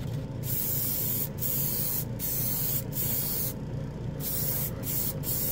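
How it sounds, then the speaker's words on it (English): 3-in-1 airbrush spraying primer thinned with lacquer thinner onto a model wing: a steady close hiss in repeated bursts, broken by several brief pauses, with no talking. "So let's go ahead and prime this wing."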